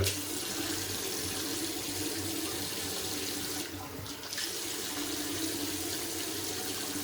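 Water from a tap pours steadily into a sink while the face is wetted before a shave, a continuous hiss with a brief dip midway.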